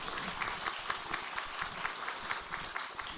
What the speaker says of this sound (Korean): 우리 한번 큰 박수